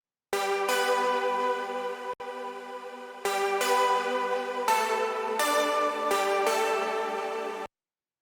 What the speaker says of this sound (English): one more really, really, really big pluck that plays in the very last post-chorus